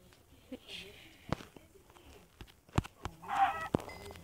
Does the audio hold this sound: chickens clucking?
yes